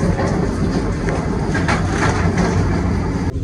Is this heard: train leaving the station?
yes